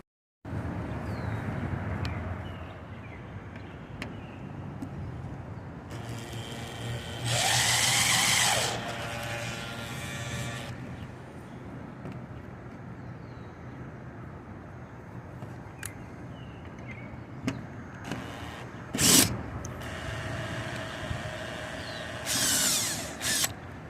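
A wrench tightens a roof rack bolt on a 2013 Dodge Grand Caravan, giving sporadic bursts of metallic clicking and scraping between quieter stretches, close by and with no talking.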